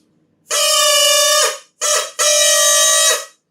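Two drinking-straw flutes of different lengths blown together give a loud, steady, reedy chord like a train horn, heard in three blasts: a long one, a short one, then another long one, with no talking.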